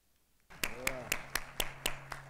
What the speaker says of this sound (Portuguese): O aplauso é para vocês.